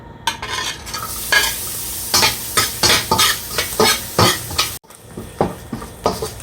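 A spatula scrapes and stirs sizzling garlic in a pan for fried rice, with loud rhythmic strokes about twice a second over a constant frying hiss and a short pause midway.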